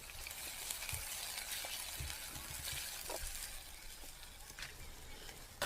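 Onions sauté in hot oil in a pan, giving a steady soft sizzle with occasional stirring clinks and scrapes, quiet and close.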